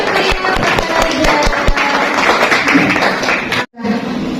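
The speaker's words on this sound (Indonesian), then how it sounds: "Boleh tepuk tangan dulu dong yang meriah untuk Kak Reza." A lively audience claps for Kak Reza at an arts discussion event, a dense, loud wash of many hands that continues steadily and then cuts off abruptly near the end.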